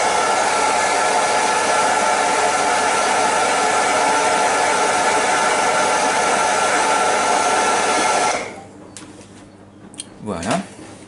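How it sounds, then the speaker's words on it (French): A hair dryer drying oil paint on a scale model surface: a loud, steady close-up blowing roar lasting about eight seconds, then cutting off to quiet handling noises and a brief voice. "Je vais rapidement sécher la surface pour pouvoir continuer à travailler dessus."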